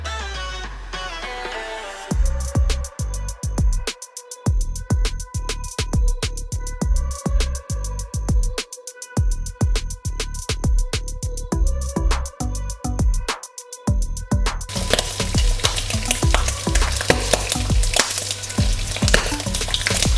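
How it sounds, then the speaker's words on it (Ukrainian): Close, loud crackling and popping of brisket frying in a hot pan until crisp, a rapid irregular sizzle that grows denser and hissier toward the end. "Грудинку я буду підсмажувати на сковорідці до хрусткої скоринки."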